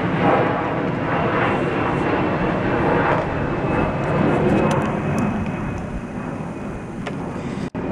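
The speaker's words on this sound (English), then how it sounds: "I'm not going to talk for a second because there's a plane coming" An airplane flies overhead outdoors, a broad, steady engine roar that holds loud for several seconds and then slowly eases off, with no talking.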